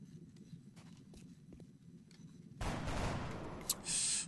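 Gunfire in the video game XCOM Enemy Within: after a quiet, low rumbling stretch, a dense burst of rapid shots erupts and sustains, ending with a short high electronic tone.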